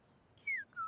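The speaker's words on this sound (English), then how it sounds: "That was a convincing whistle" A person whistles in Genshin Impact, two short clear tones: a bright falling note, then a steadier lower one, close and alone over faint background.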